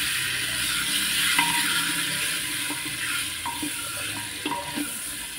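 Ingredients for handi chicken sizzle in hot oil inside a clay pot, a continuous close frying hiss with occasional small pops and stirring scrapes, and no voices.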